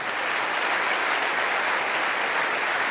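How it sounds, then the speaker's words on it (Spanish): An audience in a church applauds continuously, a dense, even wash of clapping hands sustained at steady loudness throughout with no voices standing out. "Alguien tiene que aplaudir más fuerte que eso."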